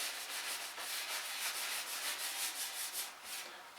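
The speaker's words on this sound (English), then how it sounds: "I like to apply future coats on with a paper towel." A paper towel rubbing a finish coat onto a wooden stool makes a steady close-up swishing, repeated in quick back-and-forth strokes with no pauses and no voices.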